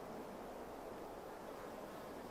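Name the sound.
wind blowing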